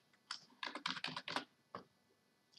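A quick burst of keystrokes on a computer keyboard while a contact group is renamed, about eight close, crisp clicks clustered in a second followed by a couple of isolated taps.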